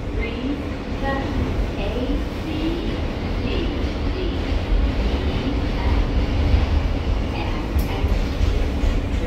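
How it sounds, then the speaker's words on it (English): A subway train rides along with a steady, loud rumble and rattle of wheels and carriage, with faint squeals and a brief screech near the end. "So I'm gonna hop on the subway train"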